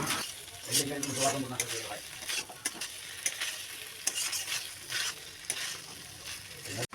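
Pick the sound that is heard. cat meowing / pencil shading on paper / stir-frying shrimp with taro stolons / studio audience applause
stir-frying shrimp with taro stolons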